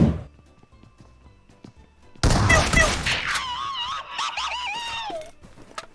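Shotgun fire in a battle royale video game, starting with quiet background noise and then a sudden burst of loud rapid blasts. A shrill, wavering in-game whine follows and fades out.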